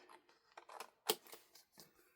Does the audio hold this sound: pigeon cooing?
no